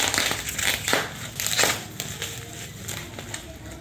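Parcel packaging being torn open by hand, giving a close run of crinkling, crushing rips with sharp bursts of tearing through the first two seconds, then lighter rustling.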